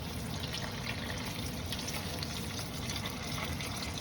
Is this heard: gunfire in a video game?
no